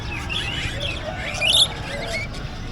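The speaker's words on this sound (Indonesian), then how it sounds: "Nah ini banyak burung apa ini namanya" Caged birds at a bird market in Palembang chirp and tweet over a steady crowd murmur, with one brighter, louder call standing out briefly.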